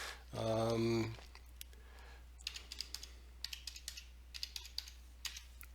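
Fingers typing a password on a computer keyboard, heard as faint, scattered close key clicks in an uneven rhythm after a brief loud burst of noise, with a steady low hum underneath.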